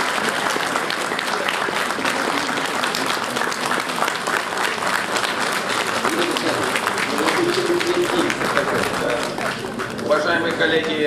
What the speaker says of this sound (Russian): мы, конечно, признательны за бурные аплодисменты